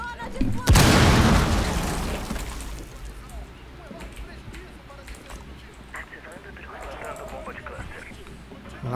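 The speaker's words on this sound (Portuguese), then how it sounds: "Bomba de cluster nele." A Rainbow Six Siege cluster charge goes off in one sudden, loud blast followed by a fading rumble, and players keep talking over the aftermath.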